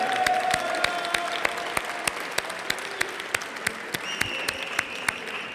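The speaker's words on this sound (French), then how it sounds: "Ok, allez, on l'applaudit" Crowd applause at a fan convention stage show, sustained clapping with a few sharper individual claps standing out and some voices beneath.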